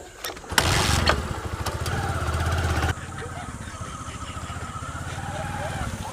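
A motorcycle engine starts and runs loudly nearby with a rhythmic rumble, then drops to a quieter, rougher running sound after a few seconds, while people talk over it.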